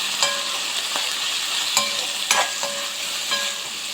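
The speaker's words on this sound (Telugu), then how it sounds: "ఇందులో వేసుకొని కలిపేసి ఆనియన్స్ని కొద్దిసేపు మగ్గనివ్వాలి." Onions, green chillies and turmeric sizzle in a pan for a boti curry, with a spoon scraping and stirring in repeated strokes over a steady frying hiss, close and without talk.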